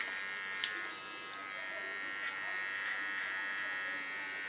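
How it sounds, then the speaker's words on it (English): A small electric hair clipper buzzes steadily while trimming a neckline contour during a haircut, a close, even whine that continues under a person talking. "Clean the contour line with my small clipper."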